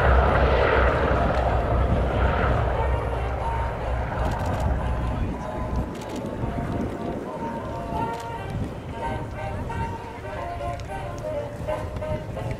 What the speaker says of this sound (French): Un B-17 Flying Fortress accompagné d'un Spitfire.